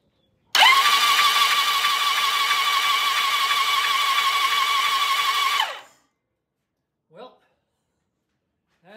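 A newly installed starter motor cranks an engine over without plugs fitted, a loud steady whirring spin lasting about five seconds before cutting off abruptly, followed by brief faint sounds.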